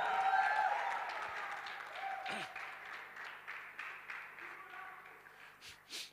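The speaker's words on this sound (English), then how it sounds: "give a better clap than the way you clap" A church-style gathering claps for a group leader being introduced, a loose, moderate applause that fades after the first second into scattered claps with some background noise and a faint voice.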